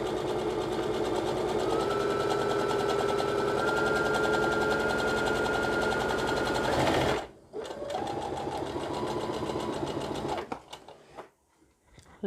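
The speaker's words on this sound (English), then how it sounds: "Now go to the second line and start sewing again, exactly as we've done to the other side." A sewing machine runs a straight line of stitches on fabric, a loud, fast, continuous whir close up, pausing briefly then running again before slowing to a stop.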